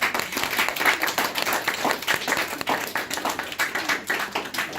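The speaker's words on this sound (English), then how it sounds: "Let's give them a round of applause real quick." Audience applause at a simulated congressional hearing, a steady wash of many hands clapping close by for nearly five seconds, with no voices over it.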